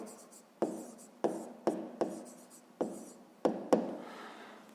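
Pen writing numbers by hand on paper, a series of about seven distinct scratchy strokes in an irregular rhythm, close and fairly quiet, with no voice over them.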